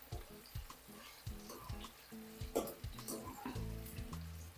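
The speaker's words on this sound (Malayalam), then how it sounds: "ക്ഷമയോടുകൂടി വറുത്തെടുക്കുക." Mango pieces for mango pickle fry in oil, a steady sizzle running throughout with clinks and stirring knocks of a utensil against the pan, fairly close.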